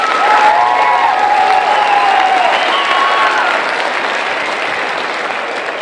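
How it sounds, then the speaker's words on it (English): Loud sustained applause fills a hall at an academic honors event, steady dense clapping from a crowd with a few cheers, then fading slightly toward the end. "let's give them another round of applause"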